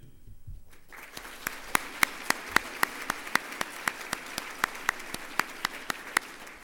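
An audience at a United Way annual meeting applauds volunteer board members, building from a soft start into steady clapping with one or two sharp, evenly spaced claps standing out prominently above the crowd.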